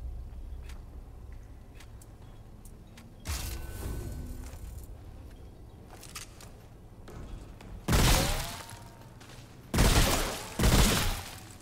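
Burst rifle in Remnant: From The Ashes firing loud three-shot bursts, with a few sharp volleys clustered near the end over a low game ambience.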